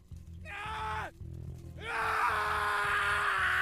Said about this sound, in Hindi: कोई आदमी जोर से चिल्ला रहा था, जैसे तड़प रहा हो।